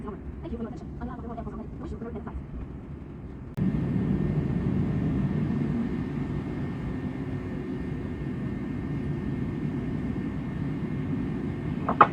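Inside the cabin of an Air France airliner before takeoff, a steady engine drone swells abruptly as the engines spool up and then holds as a loud continuous rumble, with brief voices over it early on.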